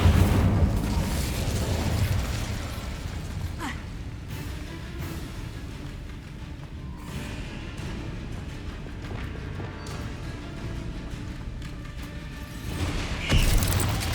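An Incendio fire spell in Hogwarts Legacy, a loud whooshing burst at the start that settles into a dense roaring rumble, with another flare of fire near the end.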